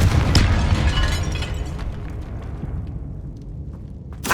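Confringo blasting spell going off in the Hogwarts Legacy video game, a loud booming fiery explosion with deep rumble that decays over a few seconds, followed by a sharp pop at the end.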